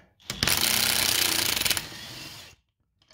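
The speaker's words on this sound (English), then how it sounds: "then get on it with my impact gun" A pneumatic impact gun hammers a nut off the rear shock of a 2007 Nissan Quest in one loud, close, rattling burst of about two seconds that winds down and stops.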